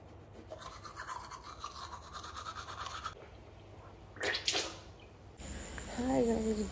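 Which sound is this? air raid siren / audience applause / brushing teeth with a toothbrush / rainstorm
brushing teeth with a toothbrush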